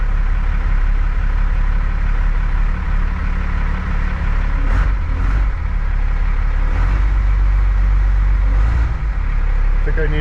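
A scrap car's engine runs steadily at close range, a loud continuous low rumble with a few brief revving swells. It idles on throughout.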